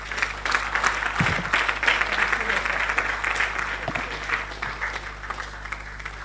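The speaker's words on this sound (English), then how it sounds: "Please, a warm round of applause for our keynote speaker." A conference audience applauds a keynote speaker on leadership and business, with dense clapping that carries on steadily and slowly thins, and a voice speaking over it.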